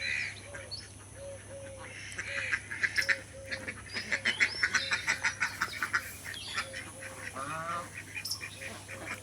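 Ducks on a small duck farm quack in loud, rapid repeated bursts from close by, several birds calling over a steady low hum, with a sparser stretch before and after the busiest middle section.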